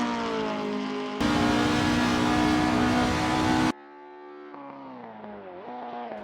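A vintage race car charges down the straight, its engine a loud steady drone that swells into a harsh full-throttle roar, then drops back to a lower, wavering hum as the revs change.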